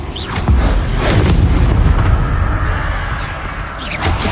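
Confringo and Incendio fire-spell explosions in the Hogwarts Legacy video game, a continuous loud rumbling boom with crackling bursts layered over one another.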